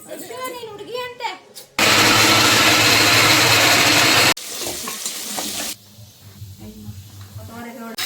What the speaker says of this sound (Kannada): ಇದು ಎಣ್ಣೆಲಿ ಫ್ರೈ ಮಾಡ್ಕೊತಿರೋದು ಯಾಕಮ್ಮ?